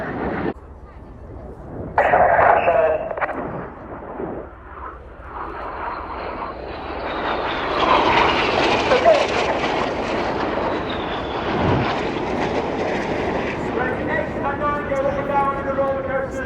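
Red Arrows RAF jets splitting apart in a formation break at the Royal International Air Tattoo, a loud rushing roar that swells and fades as they pass, with a commentator talking over it.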